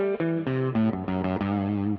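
Electric guitar through distortion and effects playing a short, fast Lydian sharp-11 lick, a quick run of bright, sustained, overdriven notes lasting about two seconds.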